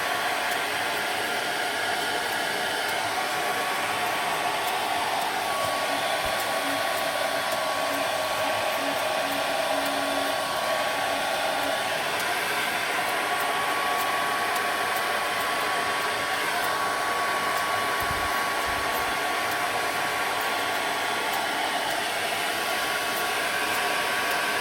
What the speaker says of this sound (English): I use the hairdryer a lot more than other people do